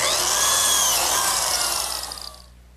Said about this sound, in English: Now I'll cut all the slots in the remaining edges.